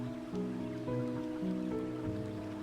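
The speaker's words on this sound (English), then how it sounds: "You hear the soothing sound of water moving over smooth stones." Water moving gently over smooth stones in a grassy riverside setting after rain, a soft, steady wash beneath sustained, calm musical tones with no talking.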